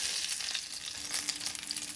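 Food fries and sizzles steadily in a hot pan, a constant crackling hiss with small pops, close and fairly quiet with no talk.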